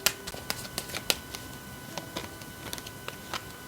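Tarot cards are shuffled and handled in a quiet room, a soft papery riffle with a series of light flicks and taps close by.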